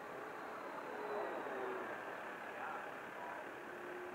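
Flightline F7F Tigercat RC plane flying a loop at Eden Field, a faint, steady motor whine with slowly shifting pitch heard from a distance over broadband outdoor noise.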